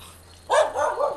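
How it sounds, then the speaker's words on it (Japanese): A dog barks a few times somewhere off in a small harbour village, a loud burst followed by a couple of shorter yaps, heard outdoors with steady background hum. "吠えられてる吠えられてる。"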